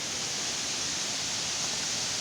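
A waterfall at Rock Island State Park in Tennessee gives off a steady, dense rush of falling water, broad and continuous with no pauses, loud and close.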